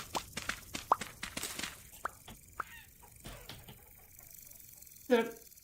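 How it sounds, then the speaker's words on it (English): Chicken in the game Vintage Story giving a quick cluck near the end, faint and close, after a scattering of small taps and footsteps in an otherwise quiet scene. "That's a chicken."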